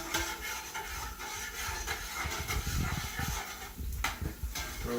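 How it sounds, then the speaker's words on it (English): Chopped garlic and onions cook down in a hot pan, giving a steady, moderately quiet hiss and sizzle with faint crackling pops, continuous throughout with no talking. "We'll let this cook down just for a little bit"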